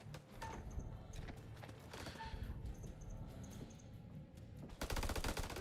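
Gunfire in House of Ashes: repeated rapid shots and bursts through a dense, noisy combat scene, with a louder volley near the end.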